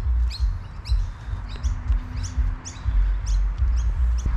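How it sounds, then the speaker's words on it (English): Small birds chirping in quick, high repeated tweets at a steady rhythm, moderately distant, over a low rumbling wind-like background. "you can hear the birds chirping"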